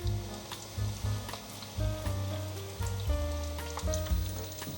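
Dough strips frying in hot oil, a close, steady crackling sizzle with occasional low knocks and scrapes as the pieces are handled.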